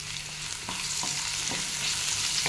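Cut potatoes fry in hot oil with turmeric and salt, giving a steady, close sizzle broken by a few soft clacks of a stirring utensil every half second or so.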